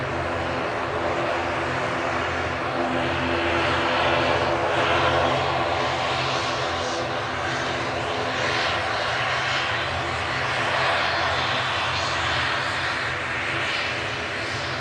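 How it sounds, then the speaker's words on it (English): A propeller airliner, registration EI-HDH, operating flight 3325 to Dublin, drones steadily and loudly throughout with a broad engine roar that swells slightly and fades, no voices. "We're thankfully going to get rid of this noisy prop next"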